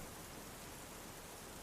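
Soft, steady rain falls continuously as an even, diffuse hiss with no distinct drops standing out, faint and unbroken throughout.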